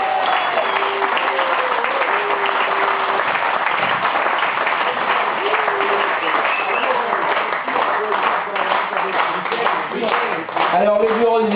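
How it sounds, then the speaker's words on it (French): An audience at an event applauds the TGD office in sustained, dense clapping, with crowd voices and calls mixed into the steady roar. "c'est d'applaudir avec moi tout le bureau du TGD"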